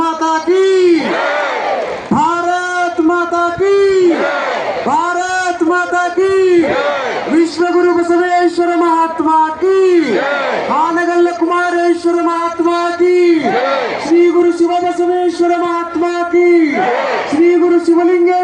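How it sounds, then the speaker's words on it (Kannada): A huge crowd at a temple fair of a Hukkeri math in Haveri roars victory chants in unison, with repeated loud collective shouts rising and falling in a steady call-and-response rhythm. "ಎರಡು ಕೈಗಳನ್ನು ಮೇಲೆತ್ತಿ ಒಮ್ಮೆಲೆ ಜೈಕಾರ ಹಾಕಬೇಕು"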